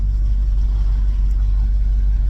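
A Squarebody truck's engine runs steadily while driving, a loud, constant low rumble that fills the whole stretch with no breaks or gear changes.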